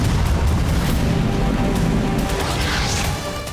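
A missile strike blast in Kyiv during a Russian assault: a loud, low booming rumble with crackling debris that slowly fades over a few seconds, with no voices.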